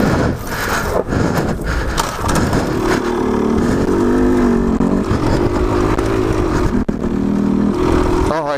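A dirt bike ridden along a public-land trail in California, its engine loud and close throughout, droning and revving steadily before cutting out abruptly near the end.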